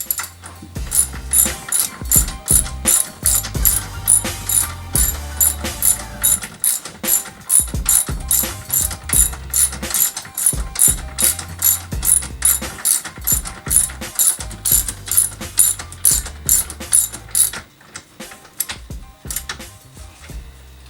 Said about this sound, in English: Now that it's in, just go ahead and tighten it up.